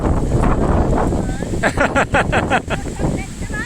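Strong gusts of wind roar across the microphone in buffeting bursts as a storm approaches, with someone speaking excitedly over the rushing noise.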